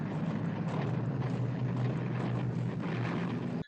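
A propeller airplane in a 1961 war film, shot up and going down smoking, gives a loud steady engine roar with broadband rumble throughout, cutting off abruptly at the end.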